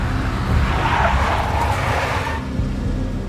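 A big black Mercedes skids with a sustained tire screech and engine roar in the Max Payne video game, loud and close, easing off near the end.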